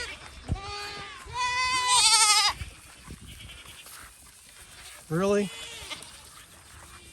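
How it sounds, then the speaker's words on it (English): A baby goat stuck in a fence gives a few loud, wavering bleats, a long one early on and a shorter cry near the end. A person speaks briefly between the bleats. "There's a baby goat over here stuck."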